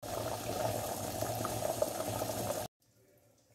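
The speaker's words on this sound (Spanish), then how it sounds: "Ya los tenemos hirviendo." Apricot jam bubbling steadily in a cooking pot, a dense, continuous simmer heard up close that cuts off abruptly into near silence.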